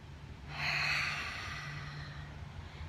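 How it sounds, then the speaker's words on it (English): A single deep, airy inhale close to the microphone, swelling quickly and then easing off over a couple of seconds against a quiet background. "take another deep breath"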